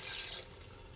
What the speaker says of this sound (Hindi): तो 6 गिलास हम पानी डालेंगे।